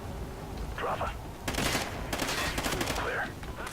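Gunfire in the video game Call of Duty Ghosts: dense bursts of rapid shots over a steady game background, with a brief lull between volleys.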